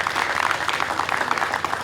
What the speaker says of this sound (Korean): 모두를 환영하는 큰 박수 한번 부탁드리겠습니다.